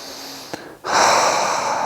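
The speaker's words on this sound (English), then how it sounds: "Take a deep breath in and sigh it out." A deep breath drawn in sharply, a short pause, then a long, loud sighing exhale that fills the rest of the moment, taken during a yoga session.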